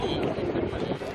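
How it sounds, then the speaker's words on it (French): Wind gusting outdoors, a steady rushing roar buffeting a nearby microphone that stays loud and continuous throughout. "Ah il y a du vent ici."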